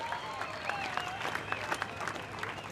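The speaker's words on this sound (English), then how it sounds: "Let's give them a round of applause for making all this come true." Audience applause at a surfing world championship award ceremony, a steady, fairly distant wash of clapping heard without speech, with a faint tonal ringing running underneath.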